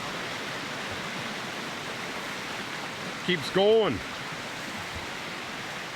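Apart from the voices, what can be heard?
creek water flowing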